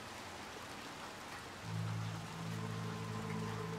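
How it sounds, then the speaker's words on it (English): Steady rain hisses in a dark city scene in the video game Little Nightmares 2, continuous and moderately loud, joined midway by a low sustained droning hum beneath it. "Now we're in the rain."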